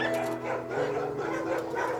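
Dogs in an animal shelter pen area, a steady layered din of yips, whimpers and barks from several animals blending together, continuous and fairly loud throughout.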